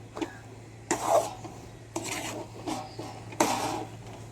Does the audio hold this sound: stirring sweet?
yes